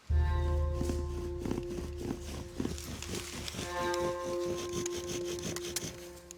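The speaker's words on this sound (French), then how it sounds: "j'ai ma drill qui va venir frotter sur ma planche" Friction fire drill rubbing on a wooden board, a rhythmic scraping and squeaking grind repeating back and forth, close and steady with no talk.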